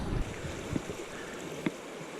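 River current on the Lower Owens River near Bishop, California, a steady broadband wash of flowing water close by, with a couple of brief splashes or knocks breaking through the continuous rush.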